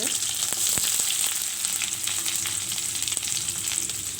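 Cumin seeds and chopped onions fry in hot oil in a pan, with a few mustard seeds, giving a steady, close, loud sizzle with faint crackles throughout and no talking.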